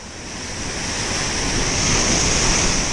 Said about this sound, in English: Nothing really beats a good sea breeze.